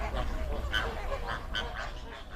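Flamingos calling at Kenya's shallow soda lakes such as Nakuru, Bogoria and Magadi, a busy flock of honking, goose-like calls layered over low wind and ambient noise.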